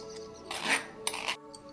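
Metal spoon scraping and knocking against a vessel while mashing black grape pulp with water, two short bursts of clinks and scrapes close by over a quiet room hum.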